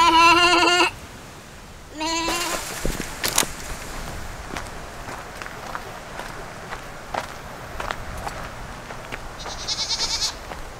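Goats in a goat pen bleat loudly and close by, two strong calls in the first seconds and another near the end, with scattered hoof steps and rustling in between.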